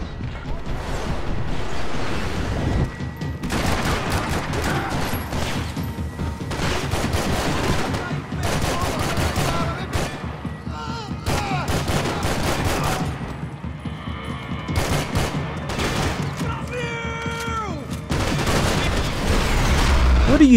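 Rapid gunfire from Max Payne 3 on Xbox 360, dense bursts of shots and impacts running loud and nearly continuous through a chaotic firefight, with game music and effects layered underneath.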